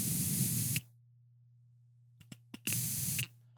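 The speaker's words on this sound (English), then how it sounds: "I'm just going to do a little spray and just make sure they go down" A nearly empty hairspray can sprays onto hair in two hissing bursts, with a few faint clicks and taps between them, close and moderately loud.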